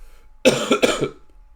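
Two quick, harsh coughs close to the microphone, one right after the other, against a quiet background.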